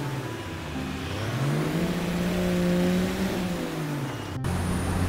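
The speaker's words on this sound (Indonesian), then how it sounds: "Ini truk molen, teman-teman, namanya truk molen. Oke, kita jalan." A concrete mixer truck in a construction simulator game pulls away, its engine droning up in pitch as it accelerates, then holding a steady mid-range hum close by before shifting down.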